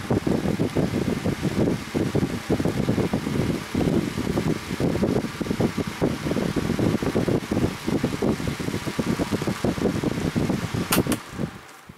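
Electric fan blowing air across large ice blocks frozen in plastic bottles, a steady close whirring hum with fluttering airflow, running continuously until a brief click and stop at the end.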